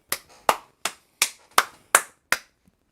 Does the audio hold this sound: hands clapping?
yes